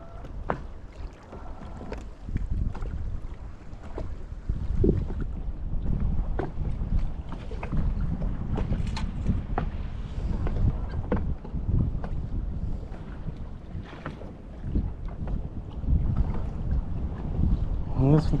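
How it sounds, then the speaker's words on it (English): Wind gusts across a lake as heard from a small boat, a steady rough buffeting with microphone rumble and scattered knocks and splashes, close and moderately loud throughout, with some voice-like murmuring mixed in. "it's a windy on this side of the lake"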